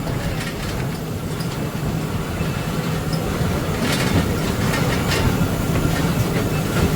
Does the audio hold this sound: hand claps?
no